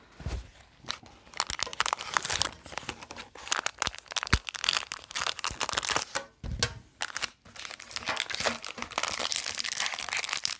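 A toenail clipper opens the packaging of an exclusive Pokemon Treasure Chest, making irregular close crinkling, crunching and tearing of plastic and cardboard in uneven bursts across the whole span.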